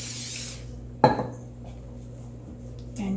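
Cooking spray hisses briefly into a bread pan, a short loud burst followed by a faint clink of the pan in a quiet kitchen.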